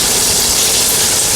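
An oil pump running on a VooDoo BBQ smoker, pumping old oil into a receptacle, gives a steady loud motor hum with constant hiss throughout, close and unbroken.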